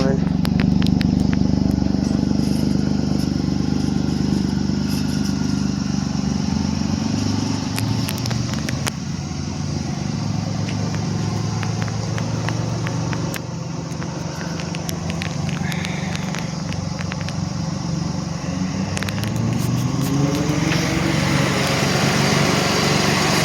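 A 1990 Ford Taurus SHO engine idles just after a cold start, a steady close-up drone running throughout beneath someone talking.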